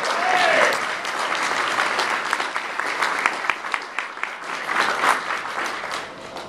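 An audience at a new energy economy event in Colorado gives a round of applause to arriving guests from Mexico, a steady crowd of clapping that swells and then tapers toward the end.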